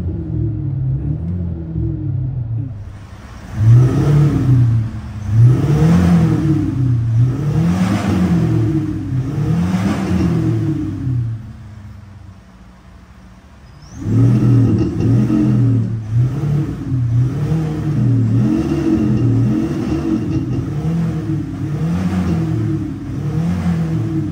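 Car fitted with a Maxhaust active sound system, revving repeatedly with loud, close pulses of engine tone that step from higher to lower pitch, then a short lull before the revving resumes.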